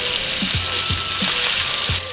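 A rolled meat roulade set into a pan of hot rendered bacon fat, giving a loud steady sizzle and crackle with a few soft knocks, close and uninterrupted.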